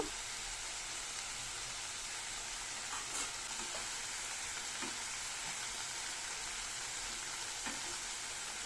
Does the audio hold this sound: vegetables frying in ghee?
yes